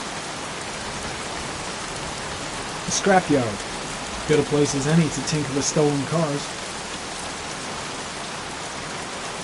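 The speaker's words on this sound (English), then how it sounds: "Jeez, won't this rain ever let up?" Steady, hissing rain pours throughout in the video game Heavy Rain on PS5 while someone speaks briefly in the middle over the downpour.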